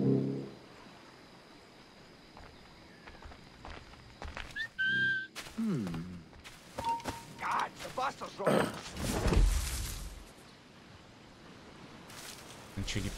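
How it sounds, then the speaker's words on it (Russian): A brief whistle sounds from a house corner in Assassin's Creed IV: Black Flag, a single short tone amid people talking, mechanical clatter and other game noise. "Свистеть же тоже можно из угла дома"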